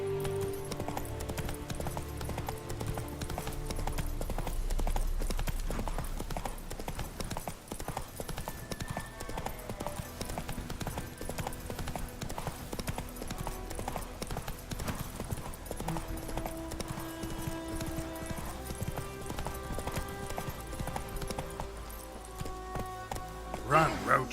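Roach the horse galloping in The Witcher 3, a fast rhythmic clip-clop of hooves running on and on under game music and spoken voices.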